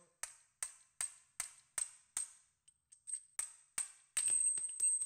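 An impact wrench with a twist socket and extension hammers at a stubborn wheel lug nut: a string of sharp, evenly spaced metallic bangs, close and loud, then a sustained rattling burst at the end.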